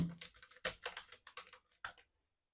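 Quiet bursts of computer keyboard typing, several quick keystrokes in irregular clusters, close by, then a pause and silence at the end.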